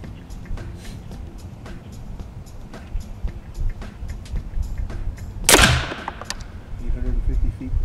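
A single sharp airgun crack as an H&N Hunter Extreme 18.52-grain pellet is fired at a target, a brief bright snap standing out amid steady background noise and a voice talking.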